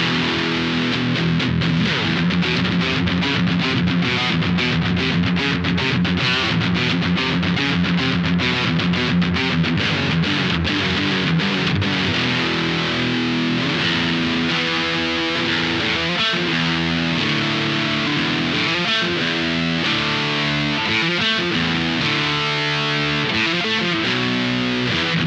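A single-coil electric guitar played loud through a Valeton distortion pedal: dense, aggressive fuzzy strumming and sustained chords with a hissy top, continuous and close, with no talking.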